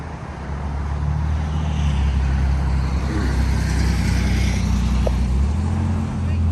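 Two Victory LX Sport and Pride Pursuit 2 mobility scooters pull away at speed, a steady low electric motor hum and road rumble running continuously and fairly loud, with a voice speaking over it.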